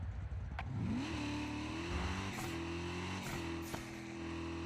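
A toy car racing a custom track in Hot Wheels Unleashed on PlayStation, its engine whining up through rising revs and gear shifts, then holding a steady high drone, with a few sharp clicks and thuds.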